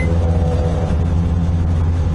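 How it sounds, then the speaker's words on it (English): Truck tyres rolling over a rumble strip on the highway, heard from inside the cab as a loud, continuous low droning rumble with a steady hum throughout. "that's the rumble strip"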